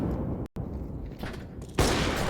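Gunfire from a Counter-Strike 2 match on the Vertigo map, fired through a wall: a dense, loud burst of shots with a sharp cutout, then a heavier blast near the end.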